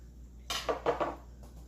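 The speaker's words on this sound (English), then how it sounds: "We're going to mix it and then we're going to taste it" Cucumber salad tossed in a bowl, giving a short burst of about four clinking, scraping knocks of utensil against dish over roughly a second, close up, with no talk.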